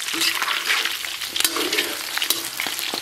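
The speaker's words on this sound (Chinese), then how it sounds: "咱们先把五花简单的给它煸炒一下，煸炒出油脂" Pork belly stir-fried in a wok, rendering out its fat: a steady, dense sizzle with crackling spits and occasional scraping clatter of the spatula, loud and close, no talk.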